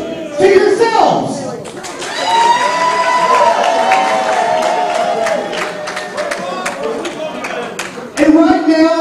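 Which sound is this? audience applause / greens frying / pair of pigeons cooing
audience applause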